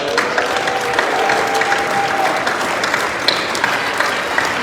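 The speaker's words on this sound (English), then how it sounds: "Volunteers, give them a round of applause." Applause from a gala audience for Make-A-Wish Connecticut volunteers, a dense, steady wash of many hands clapping that stays loud and even throughout, with faint crowd murmur beneath.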